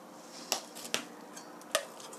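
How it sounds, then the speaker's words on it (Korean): Utensil clinks against a bowl while zucchini pancake meat mixture with black pepper and sesame oil is stirred, three or four sharp taps over soft scraping, close and fairly quiet. "골고루 섞어주세요."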